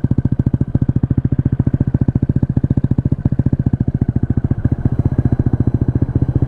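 A PGO Tigra 150 scooter engine fitted with an Akrapovic exhaust idles close by, a loud, rapid, even burbling pulse with a throaty exhaust note that runs steadily throughout.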